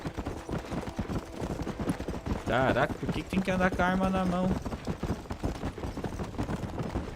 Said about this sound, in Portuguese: Olha a velocidade do cavalo, mano, nesse jogo.